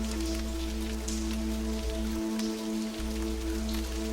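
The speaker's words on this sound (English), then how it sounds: "The rain softly taps on the cave, adding to the peaceful, almost otherworldly atmosphere" Soft rain patters steadily on a cave in a calm bedtime meditation scene. The gentle tapping continues under a low, sustained musical drone with no talking.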